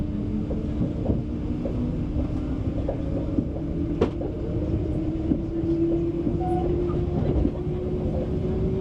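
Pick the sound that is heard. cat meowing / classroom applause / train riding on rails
train riding on rails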